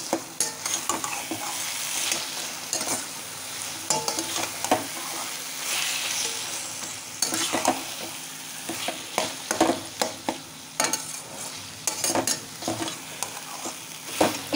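Mashed eggplant being stirred into fried, translucent onions in a pan for baingan bharta, a continuous sizzle broken by repeated scraping and stirring strokes in an irregular rhythm, no speech.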